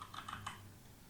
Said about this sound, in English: simply type settings